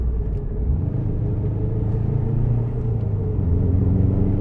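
Subaru Impreza WRX STI Type-RA Spec-C engine drones steadily from inside the cabin through gear changes, a low continuous rumble with slight surges in load and no talking.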